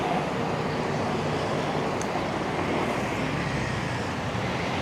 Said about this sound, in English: Oh man, the lorry's going to want to run me over.